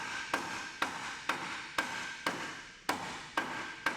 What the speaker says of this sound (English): We'll hammer the uprights out.